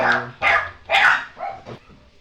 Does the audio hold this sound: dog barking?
yes